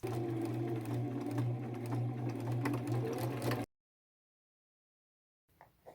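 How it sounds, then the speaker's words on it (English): Sewing machine stitching fabric with orange thread for an upcycled collage fringe vest, a close, steady motor whir with rapid needle clatter running for several seconds, then stopping abruptly into silence before faint handling noises. "Now I'm going to go sew that on."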